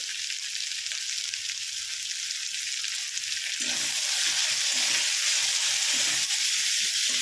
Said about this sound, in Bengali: পেঁয়াজটাকে আমি ভালো করে ভেজে নেবো এবারে